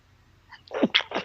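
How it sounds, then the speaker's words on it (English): A person sneezes once close to the mic, a sharp burst after a faint lead-in breath, with nothing else around it. "hold on, I got another sneeze coming."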